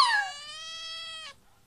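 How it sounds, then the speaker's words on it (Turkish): A cartoon cat gives a single drawn-out meow, loud and close, rising briefly at the start and then holding steady before cutting off, with no talking. "Kedi sesi geliyor."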